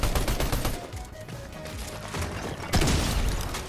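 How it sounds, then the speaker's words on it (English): The Striker shotgun is fired from the hip in Fortnite, a dense run of loud, punchy gunshot bursts with mechanical clatter, the last blasts landing hardest near the end. "we're just going to hip fire with the striker"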